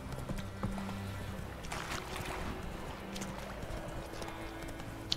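A horse trots along in The Witcher 3: Wild Hunt, hooves clopping in a steady rhythm at moderate level over soft ambient game sound.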